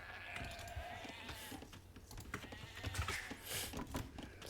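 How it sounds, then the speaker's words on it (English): Sheep bleat in the Age of Empires video game, a few brief game calls over steady in-game ambience and computer keyboard clicks close by. "Found some more sheep."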